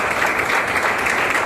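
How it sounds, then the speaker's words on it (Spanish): Thick, loud applause from an academic conference audience fills a brief moment, a continuous wash of many hands clapping at once. "un fuerte aplauso por favor."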